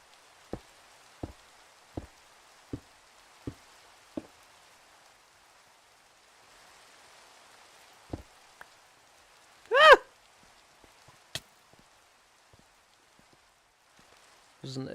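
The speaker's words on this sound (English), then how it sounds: "Oh no, the rain." Steady, faint rain patters throughout a survival video game, marked by a run of sharp, evenly spaced clicks early on and a single brief, rising tonal call near the end.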